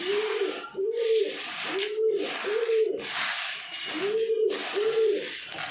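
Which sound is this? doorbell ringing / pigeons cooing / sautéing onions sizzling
pigeons cooing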